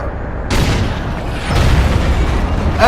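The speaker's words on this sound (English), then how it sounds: "we actually survived the shot from that howitzer" A howitzer shell bursts in the war game Battlefield Iraq with a loud, close boom that rolls into a second heavy blast. Rumbling noise continues underneath, and no voices are heard.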